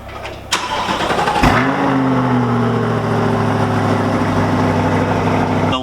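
A Chevrolet Corvette C8 with a Yonristic exhaust fires up with a sharp burst, then settles into a loud, steady, droning exhaust note up close.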